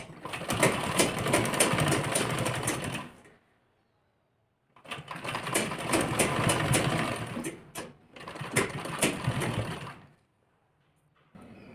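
A sewing machine stitches beaded pearl lace onto a lehenga blouse, running in three steady bursts of a few seconds each with brief silent pauses between them.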